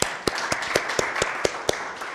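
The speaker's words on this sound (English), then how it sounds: "Please, let's appreciate them with a round of applause." Steady applause from an audience at a regulations review meeting for public benefit organizations, a dense wash of clapping with sharper claps standing out at a fairly regular beat, moderately loud and with no talk over it.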